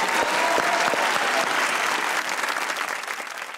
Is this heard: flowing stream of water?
no